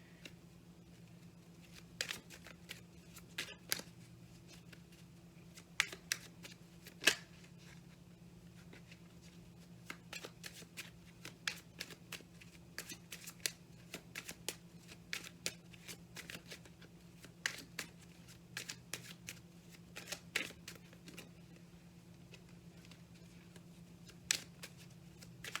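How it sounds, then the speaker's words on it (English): Tarot cards being shuffled and flicked during a card reading, soft papery snaps and riffles scattered irregularly over a steady low hum, close and fairly quiet, with no one talking. "All of a sudden, cards started flying."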